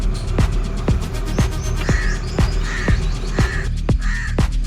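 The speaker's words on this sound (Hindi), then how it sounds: "ये जो परिंदों की आवाज़ें हैं ये दिमाग को बहुत सुकून देती हैं।" Crows caw loudly in a rural village, a harsh call repeating about every half second alongside fainter chirps from other birds, with no one talking.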